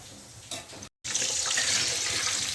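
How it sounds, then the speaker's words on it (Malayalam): A kitchen tap runs steadily into a sink while dishes are washed, a close continuous rushing of water that grows louder after a short break. "അമ്മ അവിടെ കഴുകിക്കൊണ്ടിരിക്കുക പാത്രങ്ങളൊക്കെ."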